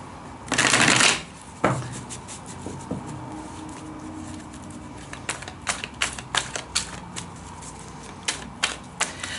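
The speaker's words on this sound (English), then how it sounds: "let's give it a good shuffle now." A loud riffle of cards is followed by quieter rustling and a run of crisp clicking flicks as a deck is shuffled nearby.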